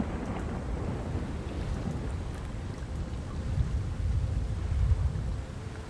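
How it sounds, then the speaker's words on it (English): Stormy weather over the open ocean, a continuous low rumbling roar with wind and wash, steady and fairly loud, swelling slightly near the end, with no voices. "Thunder rages overhead as lightning lights the water."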